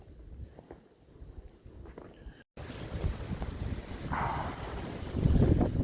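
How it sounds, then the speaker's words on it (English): A north wind rushes over a snowy Smoky Mountains ridge on the Appalachian Trail, a steady broadband roar buffeting the microphone, growing stronger and gustier toward the end. "It's north wind coming in from Tennessee."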